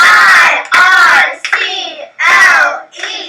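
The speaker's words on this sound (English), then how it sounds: "Let's clap" Children clap their hands in rhythm while spelling a word letter by letter in a classroom, the claps falling in short bursts amid young voices chanting together.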